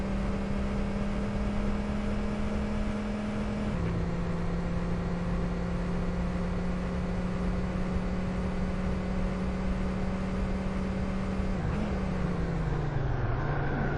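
Steady droning car engine in the TORCS racing game, a continuous hum with pitch steps as gears shift, held at a constant level throughout with no voices.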